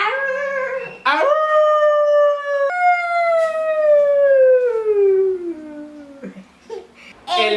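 A person imitates a wolf howl with the voice, one long sustained howl that slides upward, then slowly falls and fades, bracketed by brief vocal sounds at the start and end, close and loud.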